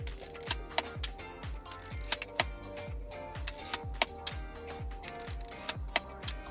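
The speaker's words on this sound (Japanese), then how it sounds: "シャッター切れておりますね" A maintained Tomioka-made film camera's shutter fires repeatedly at 1/500 second, a steady series of sharp mechanical clicks with quick decays, close and alone.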